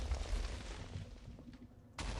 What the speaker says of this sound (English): when it hits the ground, it actually, little fragments come off of it and create mini explosions